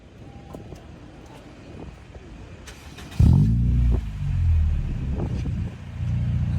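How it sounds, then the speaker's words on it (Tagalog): Exhaust of a Honda Civic FB Type X, with low idle rumble and wind noise that jumps into a loud deep rev, settles, then swells again. "Tara, pakinggan natin yung tambucho."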